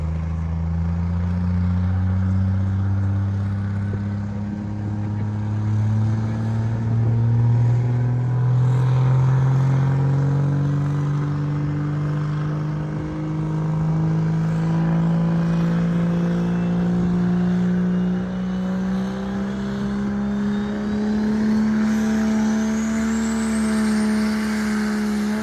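Derek Rose's full-size truck strains through a truck pull, its engine droning loud and close, pitch climbing steadily under heavy load across a long continuous pull with no voices.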